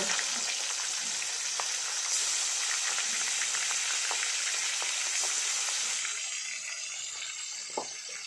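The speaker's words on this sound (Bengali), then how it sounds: "আমি বাকি মাছগুলো ঠিক এইভাবেই ভেজে নেব" Steady, loud sizzling of pangas fish frying in hot oil, with crackles and small pops, easing slightly toward the end.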